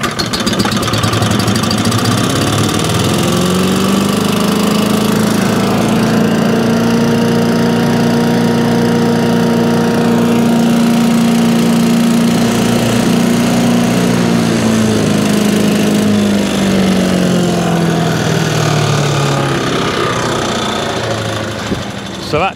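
A small petrol engine on a salvaged garden chipper shredder runs loudly and steadily close by, with a rough, buzzing drone that rises in pitch and then settles.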